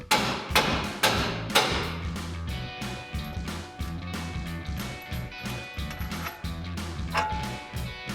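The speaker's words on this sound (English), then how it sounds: "we're going to hit it with a hammer right here to loosen the upper controller" Hammer striking the upper control arm on a RAM 1500 during a front wheel bearing and hub replacement, a series of loud metallic thumps in a steady rhythm, close and prominent, with no speech.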